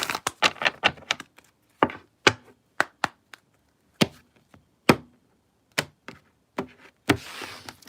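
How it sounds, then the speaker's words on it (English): A deck of tarot cards being shuffled up close, heard as a string of sharp, irregular taps and snaps with quiet gaps between them and no talking. "last shuffle"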